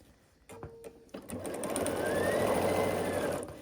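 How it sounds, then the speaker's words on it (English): A sewing machine stitches quilt strips for a scrappy trip block, starting with a few short bursts and then running in a steady, loud, continuous whir for about two seconds before slowing to a stop. "I'm sewing along one of the edges"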